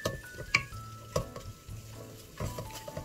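Ground beef browns in a pan for Korean Filipino spaghetti, giving a soft, low sizzle broken by a few sharp clicks and scrapes as a utensil stirs the meat.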